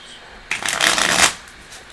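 A deck of tarot cards is riffle shuffled once at close range, giving a quick loud ripple of flicking cards that lasts under a second, with quiet before and after.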